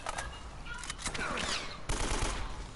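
Rapid gunfire crackles in Uncharted: Drake's Fortune, dense overlapping shots in bursts across the whole stretch, loud and close, with game effects mixed in.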